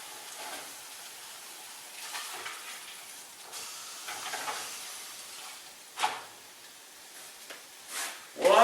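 Onion cornbread batter fries in a hot pan with a soft, steady sizzle that swells and fades, broken by a few brief louder pops and clatters near the end.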